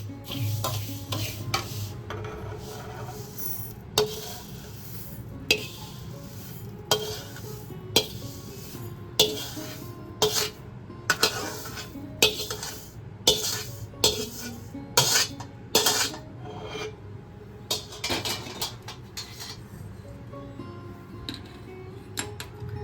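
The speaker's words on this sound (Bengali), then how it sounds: "আর ক্রমাগত এরকম নেড়ে যেতে হয়।" A spatula keeps stirring moong dal dry-frying in a pan, with repeated scraping strokes and sharp metallic clinks against the pan over a soft, continuous sizzle, close and steady with no talking.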